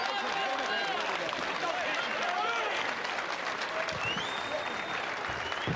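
A boxing crowd applauds and roars at the close of a heavyweight fight, a dense sustained wash of clapping and cheers with a commentator's voice and whistles over it.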